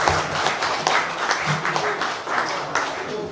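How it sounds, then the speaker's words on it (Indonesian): Audience applause at an induction ceremony for a Pemuda Batak Bersatu branch leadership in Ciputat, a dense, steady crowd clapping with scattered louder claps, continuous throughout. "Tepuk tangan."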